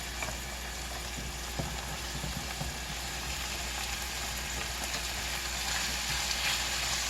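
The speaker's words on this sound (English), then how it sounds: "So I think I'm ready to put the green beans in there." Green beans sizzling in oil alongside onions and bell pepper in a pan, a dense, even hiss that holds steady and swells slightly toward the end, without speech.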